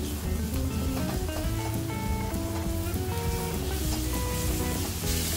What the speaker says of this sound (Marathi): मसाले तेलात व्यवस्थित परतून घ्यायचे